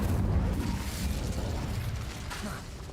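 An Incendio fire spell cast in Hogwarts Legacy bursts with a low, rumbling boom and popping crackle that gradually fades over a few seconds.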